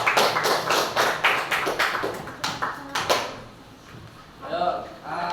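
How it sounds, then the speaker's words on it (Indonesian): A classroom applauding group 4, a run of sharp, close clapping bursts that thin out and trail off midway, with some scattered voices near the end. "kita kasih tepuk tangan untuk kelompok 4"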